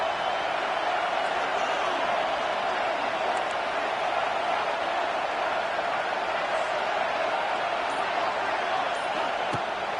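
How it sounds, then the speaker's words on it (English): Steady roar of a college football stadium crowd, cheering and building in intensity before a second-down play, a continuous dense wash of many voices throughout. "Here comes second down, and this crowd is turning it up a notch."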